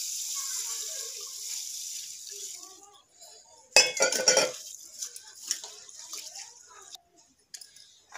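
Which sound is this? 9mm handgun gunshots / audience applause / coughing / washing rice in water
washing rice in water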